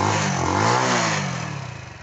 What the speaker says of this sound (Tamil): இப்போது பைக்கை ஸ்டார்ட் பண்ணி ரேஸ் பண்ணி பார்க்கலாம்.